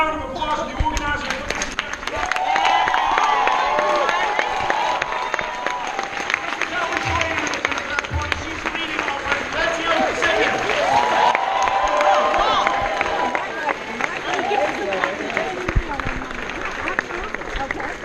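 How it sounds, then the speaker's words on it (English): Crowd at a political campaign event on a College Park campus applauds and cheers for an organizer, sustained clapping mixed with shouts and whoops, with voices rising through the noise for the whole stretch. "can we have a round of applause for the organizer?"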